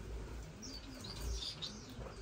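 Owl finches in an indoor bird room chirping and tweeting, a steady run of small high calls close by with no talk.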